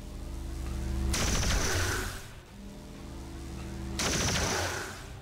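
Two loud bursts of gunshots in a turn-based strategy game, each a sharp crack followed by a crackling, rumbling tail, spaced about three seconds apart over a steady music bed.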